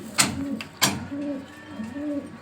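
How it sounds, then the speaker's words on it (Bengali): A pair of racing homer pigeons, the hen wearing a BRPFC club leg tag, give three clear, close, rising-and-falling coos in a steady rhythm. Two sharp clicks or taps break in near the start. "দেখতে পাচ্ছেন এক জোড়া মিলি রেসার হোমা কবুতর আছে"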